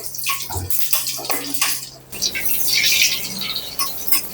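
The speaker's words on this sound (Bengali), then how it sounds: "এভাবে ৫ ফোড়ন দিয়ে বাগারটা রেডি করে ডালের মধ্যে দিয়ে দিচ্ছি।" Hot mustard-oil tempering of five-spice, dried red chillies and bay leaves is poured into dal for Bengali dal sukto, giving a loud close sizzle and crackle with bubbling that builds and persists, with no talk.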